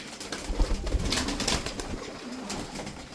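Pigeons coo softly and steadily at close range, a continuous low murmur with no talking.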